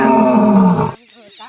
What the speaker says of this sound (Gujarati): સિંહ નો અવાજ આવેલા